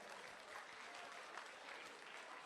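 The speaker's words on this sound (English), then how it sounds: "Let's give this guy a big round of applause," A crowd claps enthusiastically in sustained applause that stays even and full throughout, at a boxing event.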